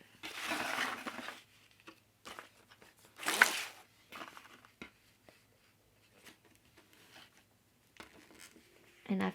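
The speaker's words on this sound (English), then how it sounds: "And I folded it up like that." Greeting card paper folded and creased by hand, a few bursts of crisp rustling and scraping with quieter taps and rubs between, close to the microphone.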